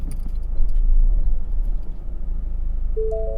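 A 2012 Ford Focus parking itself automatically, heard from inside as a low steady engine rumble with faint rattling, followed by a short pair of electronic parking-assist beep tones near the end.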